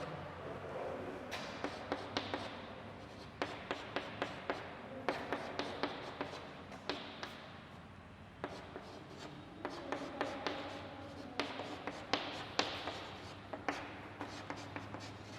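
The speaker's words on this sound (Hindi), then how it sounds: "इस प्रकार से मैं इसको नीचे लिख रहा हूं।" Chalk writing on a board during an organic chemistry lecture on polymers: a close series of quick taps and scratchy strokes in irregular bursts, quiet throughout.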